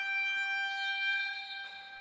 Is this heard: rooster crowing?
no